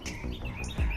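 Birds chirp and tweet continuously in a spacious backyard set against six acres of land, a bright layered chorus of several calls at moderate distance with no talking.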